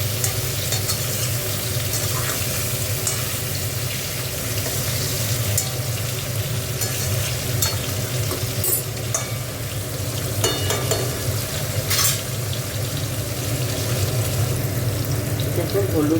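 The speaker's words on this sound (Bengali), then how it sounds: "কাঁচা আলুটা একটু ভালো করে ভেজে নেব।" Raw potatoes frying in a pan for a vegetarian poppy-seed dish with drumsticks, a steady, dense sizzle that holds evenly throughout, close and loud.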